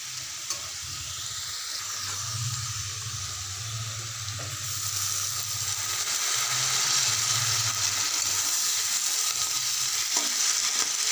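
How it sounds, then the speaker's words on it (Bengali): Potatoes sizzle steadily as they fry in a pan for aloo posto, with a whole tomato added; constant close frying hiss with occasional stirring, no voices. "আলুটা লাল করে ভাজা হয়ে গেছে। এবার একটা গোটা টমেটো দিয়ে দেবো।"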